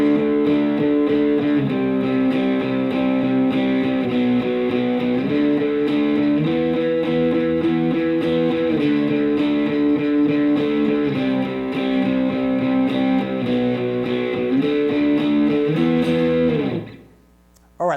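Slow electric guitar power-chord progression, loud and sustained with distortion, the chords changing every couple of seconds and ringing out before stopping near the end; no talking.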